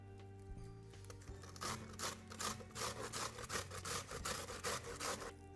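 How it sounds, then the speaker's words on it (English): An onion is rubbed against a box grater in a kitchen, giving a quick run of rhythmic rasping strokes, about a dozen scrapes in steady succession after a few soft handling noises, close and clear with no talk. "now we need to grate this onion"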